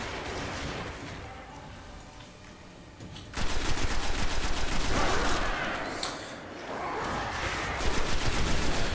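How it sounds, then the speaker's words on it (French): Rapid gunfire from a weapon in the video game Destiny, a bursty, fusillade-like stream that gets louder and denser partway through, with repeated volleys continuing to the end. "Elle est assez dévastatrice comme cette putain d'arme. Tu tires bien dans la tête là, tu fais des massacres."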